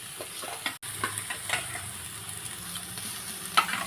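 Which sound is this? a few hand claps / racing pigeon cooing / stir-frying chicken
stir-frying chicken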